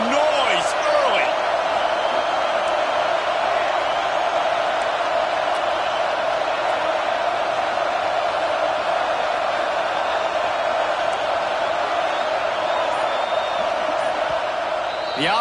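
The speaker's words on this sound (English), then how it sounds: "This crowd bringing the energy and noise early" A crowd at a Clemson versus UCF college football stadium makes a dense, steady roar of noise and cheering throughout, loud and unbroken, with faint sports commentary beneath it.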